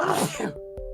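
A single sharp, breathy sneeze bursts out loudly at the start, followed by a short quiet pause and a couple of faint clicks.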